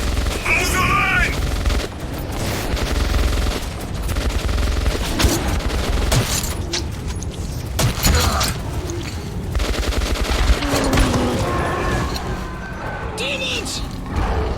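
Bursts of automatic gunfire and booms fill a Metro 2033 Redux firefight, crackling in rapid volleys over dense game sounds, with someone talking throughout.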